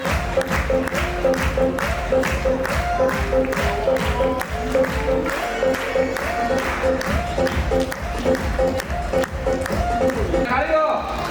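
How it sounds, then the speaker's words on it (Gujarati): An audience at a family get-together claps steadily and densely throughout, with scattered cheers and voices mixed into the applause. "તાળીઓ."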